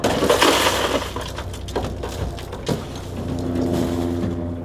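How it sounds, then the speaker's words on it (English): Glass is broken out of a rolled-over vehicle during a rescue extrication, with several sharp cracks and crunches near the start and middle over a low running engine hum, followed by a lingering tonal drone. "Breaking glass."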